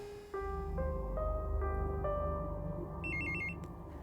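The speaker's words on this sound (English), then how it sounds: "The phone rings, just like it did in the park's phone booth." A telephone rings in the horror video game Cursed Digicam, its electronic ringtone repeating in steady bursts over a low ambient drone, with a higher trilling tone near the end.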